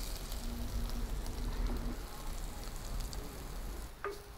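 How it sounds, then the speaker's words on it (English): Grated coconut and ginger sauté with lentils and mustard seeds in a hot pan for a ginger and coconut curry, giving a steady close sizzle and crackle throughout with no talking. "Now saute the grated coconut and ginger along with the lentil and mustard seeds."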